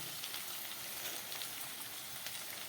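Okra stir-fried in a pan with salt and turmeric for a Bengali chorchori gives off a soft, even sizzle with faint crackles, steady and fairly quiet throughout.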